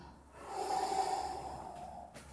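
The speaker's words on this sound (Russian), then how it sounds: "Давай, дыши так, чтобы я слышал." A person breathes audibly during a back and sacroiliac treatment, giving one long, close, breathy exhale that swells and fades, with a faint snort-like catch near the end and no talk.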